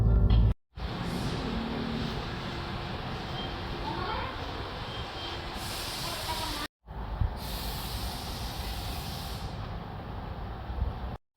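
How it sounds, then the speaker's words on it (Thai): A car being washed with a water spray: a loud, steady hiss of spraying water that runs for several seconds, stops briefly, then resumes, close by throughout. "ฝากน้องเขาล้างรถก่อน"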